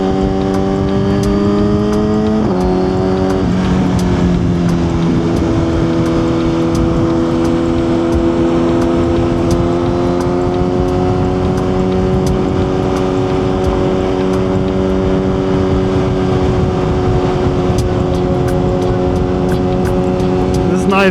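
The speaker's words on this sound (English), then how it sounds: "The Suzuki GSXR just sounds amazing." A Suzuki GSX-R superbike cruising through midtown San Antonio sends out a continuous engine drone, pitch shifting at a gear change early on and then holding steady, loud and close, with a voice talking over it.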